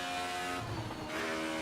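A drift car slides in the Assetto Corsa EVO racing game, its engine holding a loud, steady tone with a brief rough dip midway before rising again, no talk.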